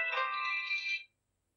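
A mobile phone ringtone playing a bright electronic melody for about a second before cutting off into silence, clear and fairly close.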